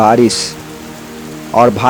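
Heavy rain pours steadily over a village in a Naxal-affected area of Dantewada, Chhattisgarh, a dense continuous hiss sitting between stretches of voices talking at the start and end.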